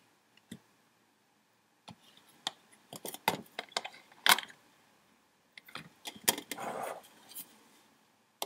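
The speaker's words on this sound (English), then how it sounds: "I like that sound of tea bags." Tetley tea bags handled up close, giving crinkly papery rustles and sharp clicks in scattered bursts, with a longer rustling stretch near the end and no talk.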